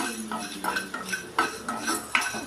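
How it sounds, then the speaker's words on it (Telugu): Coriander seeds and chana dal fry in a pan while a metal spoon stirs and scrapes, giving irregular clinks and scrapes over a faint, quiet sizzle. "ధనియాలు, పచ్చెనపప్పు వేగుతున్నాయి"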